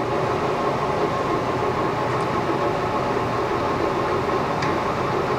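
A 15 by 54 inch LeBlond engine lathe runs under power feed with a steady, loud mechanical whir and hum of gearing and motor, continuous and unchanging, with no voices.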